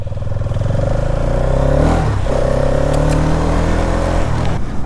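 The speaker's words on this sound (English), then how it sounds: "let's go for a short ride on this all new Hero Xtreme 250R" A Hero Xtreme 250R motorcycle on the move gives a loud, close engine drone whose pitch climbs, dips briefly at a gear change, then climbs again, with no speech.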